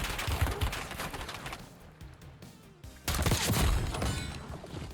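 Gunfire bursts from a Call of Duty match, loud rapid shots clustered at the start and again near the end with a quieter gap between, no voices.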